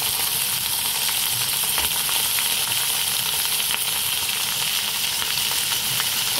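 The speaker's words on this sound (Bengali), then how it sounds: "এবার এর মধ্যে আলুগুলো দিয়ে দিল" Potatoes sizzling with pointed gourd in a hot oiled pan, a steady dense frying hiss that fills the whole stretch without pause and with no voices.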